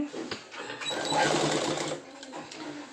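A sewing machine stitches a pant hem, a quick rattling run of the needle that swells and then eases off, fairly close and with no talk over it.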